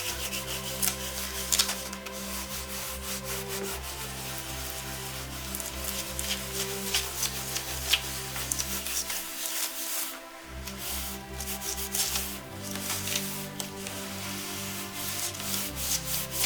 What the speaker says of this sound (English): you're just going to take the cloth and give it a good rub over.